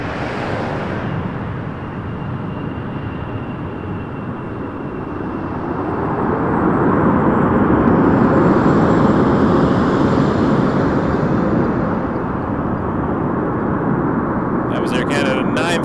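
An Air Canada Boeing 787-9 Dreamliner lands at Toronto Pearson. Its loud, broad jet roar swells in the middle and then eases off, with a faint voice underneath.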